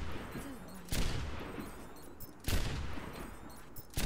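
Gunfire in Overwatch aim-training mode comes in sharp bursts of shots spaced a second or two apart, with a faint game background between them.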